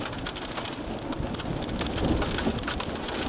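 Hail and rain pour down during a tornado storm near Dimmitt, Texas, in 1995, a steady dense hiss of pelting drops with scattered sharper impacts, constant and fairly loud, with no voices.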